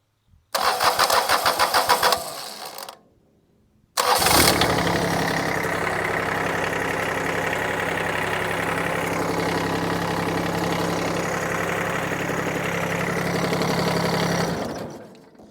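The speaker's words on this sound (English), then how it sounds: "hooked up a battery to it temporarily, and man, within like 8 seconds of cranking, it fired right up" A Kubota diesel generator engine cranks briefly, stops, then fires up and settles into a steady, loud idle close by for about ten seconds before cutting off.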